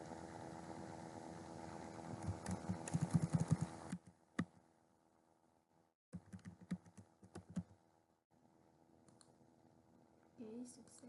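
Keys clack on a computer keyboard as data is entered into a department records form, in two quick bursts of rapid, close typing separated by a pause, with isolated clicks between.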